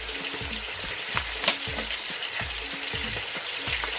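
Garlic fries in a hot pan toward golden brown, a loud steady sizzle and crackle up close with faint repeated scraping of a utensil, no voices.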